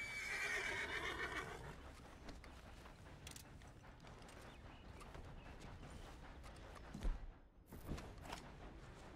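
A horse neighs loudly and shrilly at the start of a Red Dead Redemption 2 gameplay scene, its whinny fading into a steady bed of game ambience and mechanical clicks, with a few brief thumps near the end.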